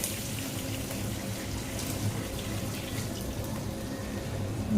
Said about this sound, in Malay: Okey, sekarang kita akan masukkan air secukupnya.